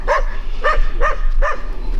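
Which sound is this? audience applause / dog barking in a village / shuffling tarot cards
dog barking in a village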